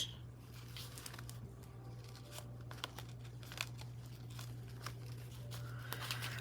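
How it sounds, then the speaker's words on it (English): Paper being trimmed for a pocket in a junk journal, a quiet series of crisp snips and crinkles spread across the clip over a steady low hum, with no voices. "Let's go ahead and trim a pocket."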